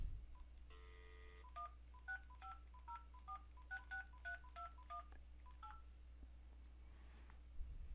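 A telephone keypad dials a support line, a quick burst of tone followed by a string of about fifteen short beeping button tones in uneven rhythm, clear but quiet over a low hum.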